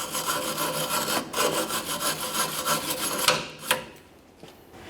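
Chevrolet Silverado 1500 outer bumper bracket being cleaned, a harsh rhythmic scraping and rasping of a brush or abrasive on metal, close and steady, with a couple of sharp knocks before it fades out.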